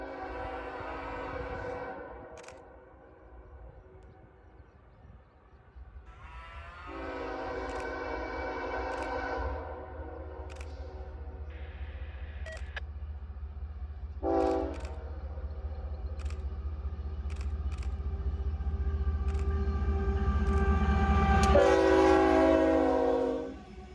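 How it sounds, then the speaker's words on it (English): A fast-moving eastbound manifest freight train passes through the Allegheny hills, sounding several loud horn blasts of different lengths over a rising rail rumble that builds to a peak near the end, with occasional sharp clicks. "I got ready for the next train, a fast-moving eastbound manifest."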